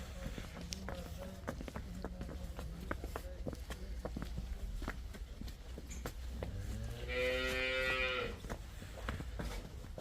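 A dairy cow on a farm moos once, loud and close, over a background of scattered footsteps and faint farmyard activity.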